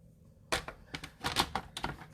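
Cardstock trimmed to 4 1/4 inches on a paper trimmer: a quick run of sharp, close clicks and scrapes lasting under two seconds.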